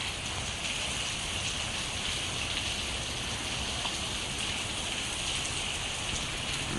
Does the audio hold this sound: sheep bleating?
no